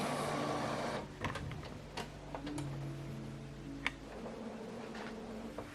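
An Epson WF-7840 inkjet printer initializes after an ink cartridge change, giving a steady mechanical whir followed by a series of short ticks and clicks at close range.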